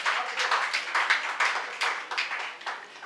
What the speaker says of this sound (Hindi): तालियां बजा सकते हैं थोड़ा।